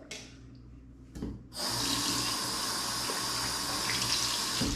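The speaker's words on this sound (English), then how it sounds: "I'm going to get hands wet" Water from a bathroom tap gushes steadily into a sink while someone wets their hands before shaving. It starts after a brief faint clatter and then runs loud and constant to the end.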